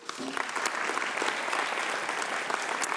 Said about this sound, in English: A big round of applause for Shivan Jagru.